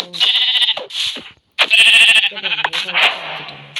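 Video game sheep bleat several times in quick, nasal bursts, close and loud, with a brief pause midway.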